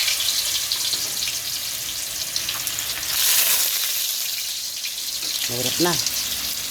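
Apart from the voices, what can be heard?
tofu frying in a non-stick pan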